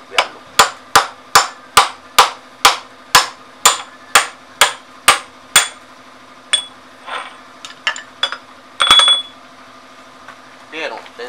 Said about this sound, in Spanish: cogemos un tubito que quepa aquí para luego golpearlo.